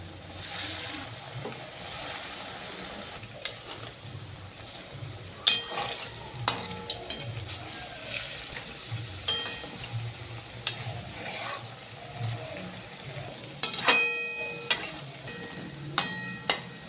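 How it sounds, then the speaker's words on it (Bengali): Raw banana fritters spit and sizzle in hot oil in a home kitchen, with quiet stirring and occasional louder clinks of utensils against the pan. "তেলটা গরম হয়ে গেছে, আমি বড়াটা ছেড়ে দিলাম।"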